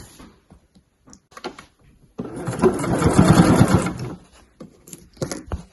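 Sewing machine running a straight stitch along the base seam of a bag, one sustained close whirring run of about two seconds framed by small clicks and handling noises.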